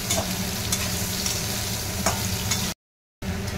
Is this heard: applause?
no